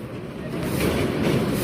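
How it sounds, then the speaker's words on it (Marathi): Passenger train running along the rails, a continuous close rumble with a faint rhythmic rattle that swells slightly toward the end, no talk over it. "ट्रेनचा पूर्ण आनंद घेताना"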